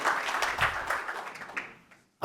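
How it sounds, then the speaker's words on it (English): Audience applause at the International Impact Forum in Abu Dhabi, a dense burst of clapping that thins out and fades over two seconds before a brief final sound. "So first of all, applause."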